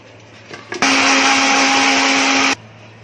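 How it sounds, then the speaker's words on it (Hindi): An electric mixer grinder switches on and whirs loudly with a steady high-pitched motor whine as it blends egg and milk for a halwa mixture, running continuously for almost two seconds before cutting off abruptly. "हाँ, अब इसको मिक्सी में घुमा लूंगी।"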